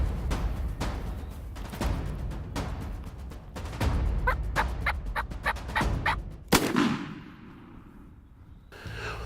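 A wild turkey tom gobbles in the open while strutting toward a decoy during a hunt, several loud rattling gobbles in quick bursts close by, then one sharp clap and a fading, quieter stretch before the end.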